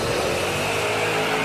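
A car revving and accelerating as a sound effect in a radio advertisement, a loud, steady engine roar with a sustained tone and no speech over it.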